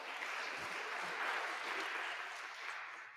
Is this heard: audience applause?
yes